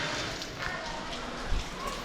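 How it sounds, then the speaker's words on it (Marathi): Heavy rain falls outdoors at the Vetoba temple in Amravali near Malvan, a soft, steady wash of hiss with a few brief spatters, heard faintly and continuously. "खूप डेंजर असा पाऊस लागलाय"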